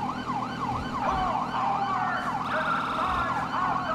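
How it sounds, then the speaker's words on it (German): A police motorcycle siren in GTA 5 wails loudly and continuously in rising and falling sweeps, with steady road and engine noise beneath and no talking. "das ist hier die normale Sirene"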